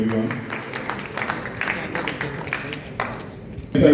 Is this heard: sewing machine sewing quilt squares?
no